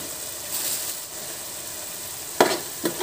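Chilli powder stirred into chicken frying in a pan for Bengali chicken kosha: a steady close sizzle with soft scraping passes, then two sharp spoon clanks against the pan near the end.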